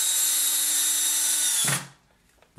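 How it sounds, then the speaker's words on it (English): A power drill whines steadily at high pitch, close by, then stops abruptly with a short thunk as the bit finishes through the wood, leaving quiet. "when I drill a hole for the"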